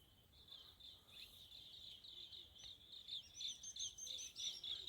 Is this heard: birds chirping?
yes